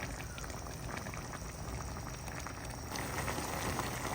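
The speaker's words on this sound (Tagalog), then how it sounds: "Ayan, kumukulo na." Mixed vegetables for a sautéed dish bubble at a steady boil in a covered pot, a close, continuous simmering hiss that swells slightly near the end, with no voices.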